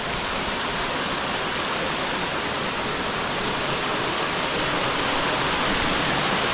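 A small waterfall cascade on Rocky Creek in Sherwood Nature Reserve, NSW, gives a constant, full rushing hiss of falling water, loud and unchanging throughout with no voices.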